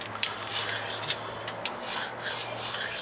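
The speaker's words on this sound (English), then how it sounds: "I usually like to take one of my finer stones." A small fine sharpening stone rasps along a blade edge in a workshop, giving a steady, close scraping sound of repeated strokes with a few sharper accents, alone without talk.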